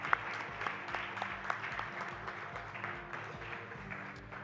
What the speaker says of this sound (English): Yeah, that's worth a clap.